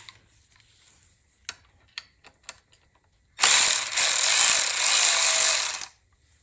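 Ratchet backing out 10 mm bolts on a Toyota 2JZ-GE VVT-i cam gear: a few sharp ticks, then about two and a half seconds of steady, loud clicking that stops abruptly.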